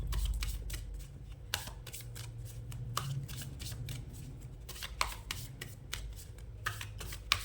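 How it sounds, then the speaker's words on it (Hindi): Tarot cards being shuffled by hand, a series of quick riffling and slapping bursts at an uneven rhythm, close and fairly quiet against a soft background. "यहाँ पे कार्ड्स शफल हो रहे"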